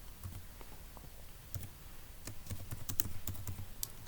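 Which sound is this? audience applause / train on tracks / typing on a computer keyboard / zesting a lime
typing on a computer keyboard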